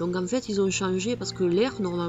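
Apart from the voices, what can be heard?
None of the usual background noises is heard.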